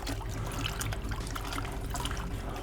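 Running water rinses soap out of motorcycle helmet foam pads in a sink, a steady close splashing and trickling stream with small drips, continuous throughout without talk.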